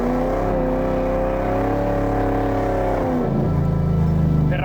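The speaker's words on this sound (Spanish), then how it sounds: "Vas a poner una marcha en tercera, en este caso, que lleva un grupo bastante corto, 300 caballos, acelerar y a esperar que el coche se vaya." A 300 hp car with short gearing accelerates hard in third gear into a drift, the engine note droning steadily and loudly, then dropping and shifting tone near the end as the car slides.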